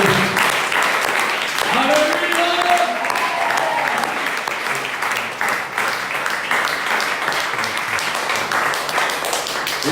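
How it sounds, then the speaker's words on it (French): A church congregation applauds and cheers the Lord during a worship service, dense steady clapping lasting throughout with voices calling out over it. "Et nous acclamons le Seigneur"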